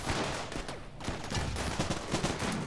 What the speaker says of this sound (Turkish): Bir tanesi daha patlıyor burada